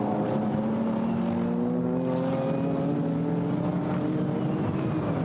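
GT4 race cars roar past on the Paul Ricard circuit, a Maserati followed by an Audi, their engines droning loudly with rising and falling pitch as they sweep by in a steady, continuous blare.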